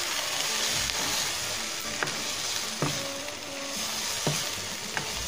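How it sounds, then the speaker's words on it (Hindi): Chili sauce and ketchup sizzle steadily in a hot pan while a spoon stirs them, with a few sharp scrapes and clicks against the pan rising over the frying hiss. "चिली सॉस डालेंगे, अच्छे से मिक्स करेंगे,"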